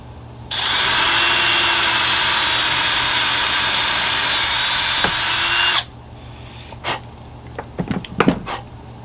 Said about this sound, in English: So just come, make that hole a perfect 30. Remember to keep this drill straight.